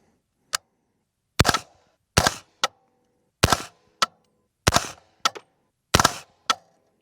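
A Q Ghetto Weasel rifle with a 7-inch barrel fires about a dozen sharp, loud cracks at close range, spaced irregularly with several quick doubles and short silences between them, and no talking.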